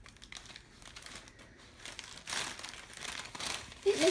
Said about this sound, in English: It makes a crinkly sound, he says.